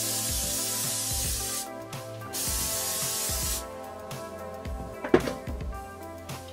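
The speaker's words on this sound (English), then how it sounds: "I'm going to fix that with a bit of hairspray, and this is a firm hold hairspray, Toni & Guy." Two sustained hissing bursts of Toni & Guy firm hold hairspray, close and loud, separated by a short pause, with soft background music continuing underneath.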